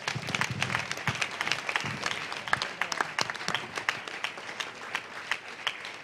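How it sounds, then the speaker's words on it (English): A church congregation claps during a Sunday morning service, many hands striking in a lively, uneven burst that stays fairly close and loud for several seconds, with scattered voices under the clapping. "Clap your hands and tell him thank you."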